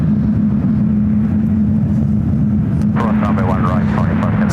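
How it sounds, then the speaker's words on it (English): A United Boeing 737 MAX 8 jet idles and taxis at San Francisco airport with a loud, steady engine drone throughout; a voice talks over it in the final seconds. "So we got this United 737 hanging out here."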